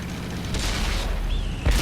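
A tank gun in World of Tanks fires with a deep, heavy boom over a rumbling engine background, a single loud burst near the end of a short stretch.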